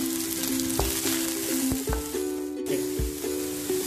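Onions sizzle steadily in a hot pan while being stirred, with a continuous frying hiss broken by several sharp scraping clicks of a utensil against the metal, loud and close throughout.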